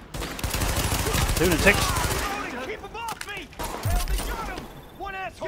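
Rapid gunfire in The Division, a dense machine-gun-like burst for the first two seconds, then scattered shots under shouted voices.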